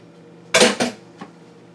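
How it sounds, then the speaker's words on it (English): A metal spoon tossed into a food container while a tzatziki chicken salad is being prepared, giving one sharp clattering hit with a quick rattle and a faint final tap. "oh, I shouldn't have thrown the spoon in there"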